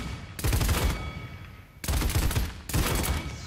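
Weapon fire in the Paladins video game comes in three sharp, loud bursts of rapid shots, with short quiet gaps between them and no voices.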